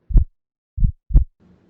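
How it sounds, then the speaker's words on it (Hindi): Three heavy, low, muffled thumps come alone in a steady heartbeat pattern, with a slight pause before the second, and a faint hum follows at the end. "इतनी तेज घबराहट में भी इसकी दिल की धड़कन तो बिल्कुल नॉर्मल है।"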